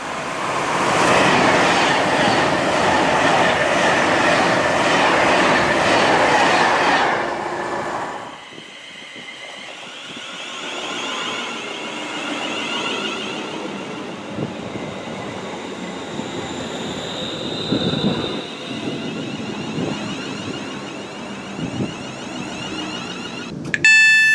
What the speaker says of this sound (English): I'm going to catch that train out